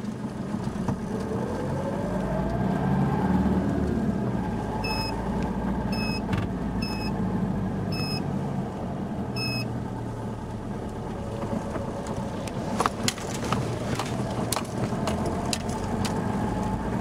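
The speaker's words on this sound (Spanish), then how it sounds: "Entonces vamos a arrancar, vamos a poner en movimiento en tercera velocidad." 4x4 vehicle pulling away in third gear, its engine a steady low drone inside the cab with a rising tone, a series of short electronic chimes and some faint clicks.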